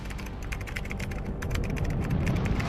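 Fingers type an AI prompt on a computer keyboard in a continuous patter of fast, close key clicks that holds steady and grows slightly louder toward the end.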